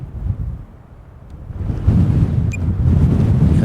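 Wind buffets a microphone at Liverpool's Anfield stadium, a low rumbling roar that swells louder after a brief lull and stays steady to the end.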